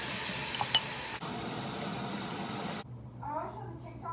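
A bathroom tap runs while someone brushes their teeth, a steady rushing stream that stops abruptly partway, after which a voice speaks over faint room hum.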